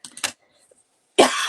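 Two short coughs up close, then a pause and a louder, harsher cough burst that trails into breathy noise.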